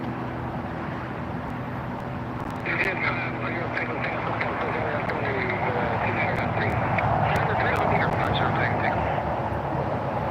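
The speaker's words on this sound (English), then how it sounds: "That's an Airbus 350-900 series. Just arrived from Rome after a 12-hour flight." An Airbus A350-900 airliner arriving at LAX from Rome after a 12-hour flight gives a steady, distant broadband roar that swells partway through and holds, with voices talking over it.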